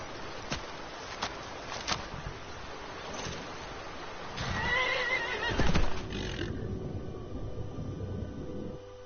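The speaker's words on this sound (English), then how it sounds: "these horses are spastic as hell" Several horses in Skyrim neigh and whinny loudly over muffled hoof clops and water-like ambience, with a dense burst of whinnying midway before the noise thins out.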